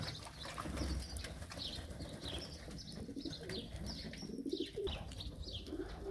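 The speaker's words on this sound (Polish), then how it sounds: "Gołębie bardzo fajnie, chętnie skakują do wody." Pigeons splash about in a water bath, with soft cooing and chirps from the flock and fluttering wings nearby, at moderate, steady loudness.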